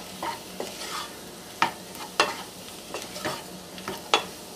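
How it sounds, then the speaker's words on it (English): Flour roux cooking in a pan for a turkey pot pie, stirred with sharp scraping strokes that land every half second or so over a soft, steady sizzle, close and fairly quiet. "3 tablespoons of flour. Make a little roux. And I'll let this cook"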